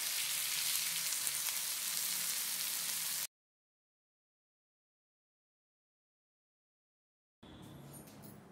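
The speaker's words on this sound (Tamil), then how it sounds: "மீனையும் பொரிச்சு எடுத்துட்டேன்" Fish fries in a hot pan with a steady, bright sizzle, close and fairly loud, cut by a long silent gap before the frying hiss briefly returns.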